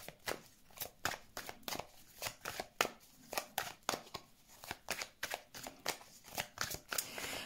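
Tarot cards are shuffled and drawn close up in a rapid series of crisp slaps and riffling flicks, roughly two to three per second, quiet and uneven with no talk over them.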